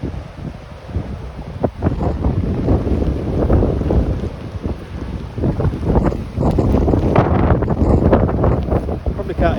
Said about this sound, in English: it's really windy and misty